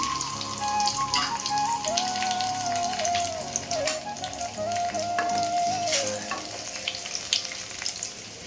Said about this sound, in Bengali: ওটা আমি তেলের ভেতর দিয়ে দিচ্ছি আর দুটো শুকনো লঙ্কা দুটো তেজপাতা এই দিয়ে আমি ফোড়ন দিচ্ছি